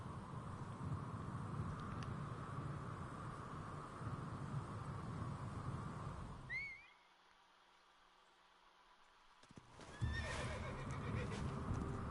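A horse in Assassin's Creed Origins gives several high whinnies over steady hoofbeats and ambient game noise, then the sound cuts to near silence before another neigh and trotting return, close and clear.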